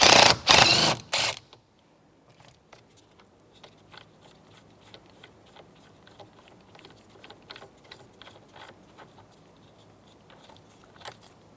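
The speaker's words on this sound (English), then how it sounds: "13mm socket, and we're going to take this center bolt out" A 13mm socket on a ratchet works out the steering wheel center bolt of a 2007-2010 Chrysler Sebring: a brief loud rattling burst, then a long run of faint, irregular clicks and ticks.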